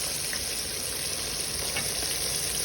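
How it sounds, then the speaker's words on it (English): Small bream or bluegill fish fry in a pan with a steady, dense sizzle that holds even and close for the whole stretch, with no talking. "Here's our fish frying."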